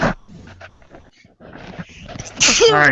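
A person sneezes at a restaurant table, a sharp close burst near the end that follows quiet talk from several people.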